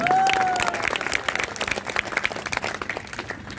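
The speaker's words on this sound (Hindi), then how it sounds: "इनके नाम पर जोर से ताली होनी चाहिए भाई" An audience applauds the host at a Hindi speaking event, with dense, loud clapping at first that thins into scattered claps toward the end, plus a short whistle-like tone near the start.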